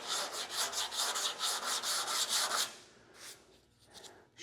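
A truck roll pan is hand-sanded with 180 grit sandpaper in quick, rhythmic back-and-forth strokes for about two and a half seconds, close and crisp, then a pause with a couple of light scuffs.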